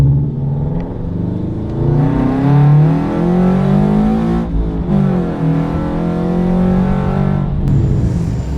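A loud, close car engine revs and drones continuously with rising and falling pitch, the deep exhaust roar dominating throughout.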